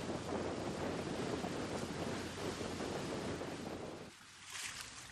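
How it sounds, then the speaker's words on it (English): Strong wind and rough sea aboard a sailboat in the North Atlantic, 30-knot gusts roaring steadily across the microphone with surging water, easing briefly near the end. "We're in 30 knots of wind and 6-foot seas"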